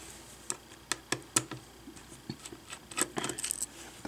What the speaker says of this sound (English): So we use our screwdriver to remove these four screws next.